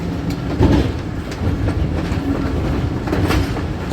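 The Rehaman Baba Express rolls on a curve into platform 4 of a busy station, a steady loud rumble with rhythmic wheel clatter over the rail joints and no voices.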